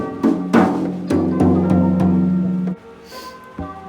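Toms on a drum kit are struck one after another, loud and close, several ringing hits with tones that sustain and decay, then a few softer strikes trail off at the end.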